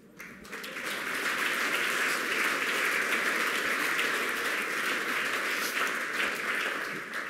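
Audience applause swells in quickly and holds as a dense, even roar of clapping from a large crowd at an inspirational talk, easing slightly at the very end.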